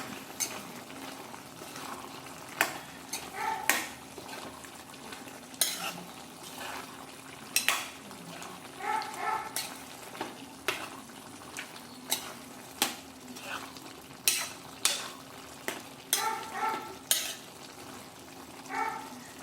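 Chicken pepper with garam masala being mixed in a sizzling pan: a steady low frying hiss under repeated sharp metallic clinks and scrapes of a spoon against the pan at an irregular pace, close and alone.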